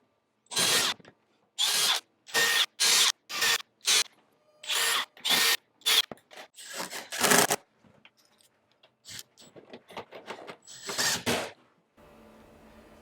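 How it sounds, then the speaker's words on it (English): A power drill drills pilot holes for a bath and shower surround in a series of short, loud bursts, each a second or so, with brief pauses and some handling clatter between them. "So now I'll drill all my pilot holes and temporary mount that"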